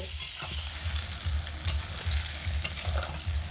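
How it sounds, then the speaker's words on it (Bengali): Eggplant pieces with salt and turmeric frying in oil on high heat for a vegetarian potato-eggplant dish, giving a steady close sizzle with soft stirring scrapes throughout, no talking. "হাই আঁচে রেখে বেগুনগুলোকে লাল করে ভেজে নেব"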